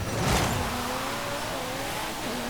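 A Lamborghini-style car engine races in Forza Horizon 5, revving hard at the start and then settling into a steady, gliding whine at speed, with no talking.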